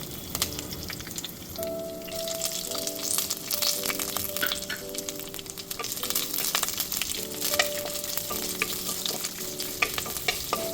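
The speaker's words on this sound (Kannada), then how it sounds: "ಇದಕ್ಕೆ ಕರಿಬೇವಿನ ಸೊಪ್ಪು, ಈರುಳ್ಳಿ, 1 ಈರುಳ್ಳಿ ಮತ್ತು 2 ಕಾಯಿ ಮೆಣಸನ್ನ ಹಾಕಿ ಫ್ರೈ ಮಾಡ್ಕೊಳ್ತಾ ಇದ್ದೀನಿ" Curry leaves, onion and green chillies fry in oil in a clay pot, a dense, steady crackling sizzle with sharp spattering pops throughout and faint tonal sounds in the background.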